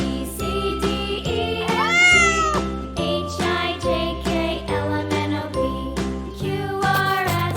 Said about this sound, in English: C for cat.